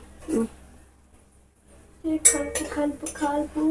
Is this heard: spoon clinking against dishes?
yes